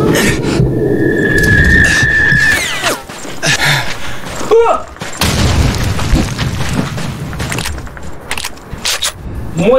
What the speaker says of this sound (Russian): Вот тебе граната на ночь.